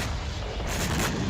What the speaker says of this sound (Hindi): रोबोताइन में रूस ने ग्रैड रॉकेट लॉन्चर से धावा बोला।